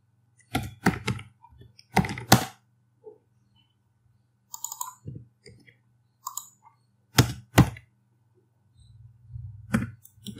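Computer keyboard typed in short irregular bursts of crisp, close key clicks while writing a simple print statement in Liferay code, with quiet gaps between the bursts and a low hum underneath.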